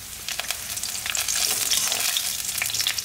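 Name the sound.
ginger and garlic frying in oil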